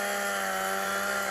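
An electronic chainsaw effect buzzes from a BRX laser tag blaster's alt-fire mode, a steady loud synthetic whine held without a break, no voices.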